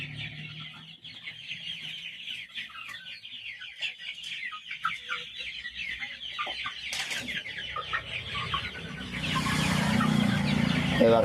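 Free-range country hens cluck and murmur continuously close by while pecking at a weighing scale, with scattered sharp taps and a rising rustle toward the end.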